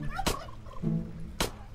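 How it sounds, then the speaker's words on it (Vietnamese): A Minecraft chicken gobbles and clucks in short bursts among game sounds, with two sharp loud gunshot bangs punctuating the clip. "Con gà."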